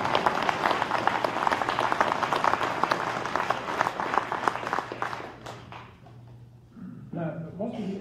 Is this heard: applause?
yes